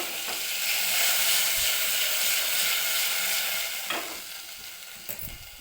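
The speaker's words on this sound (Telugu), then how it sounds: "నేనైతే మునక్కాయలు ఫ్రై చేస్తున్నాను." Drumstick pods frying in oil with onions in a pan, a loud steady sizzle and hiss with occasional stirring scrapes and a couple of clunks near the end, close and without talk.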